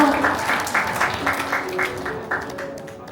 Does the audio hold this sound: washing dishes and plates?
no